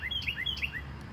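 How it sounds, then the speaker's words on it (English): A small bird chirps in a backyard vegetable and pollinator garden in June, giving a quick run of bright, repeated high tweets at moderate distance over a low ambient hum, with no talking. "bird is wanting to be part of this video"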